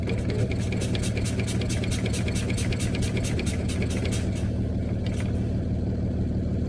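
Truck engine idling at a steady low rumble while the air brakes are checked, with a rapid rhythmic ticking over the drone that fades out near the end.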